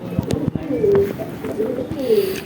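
Bajrai pigeons coo nearby, a few low rolling coos over soft shuffling and light background noise.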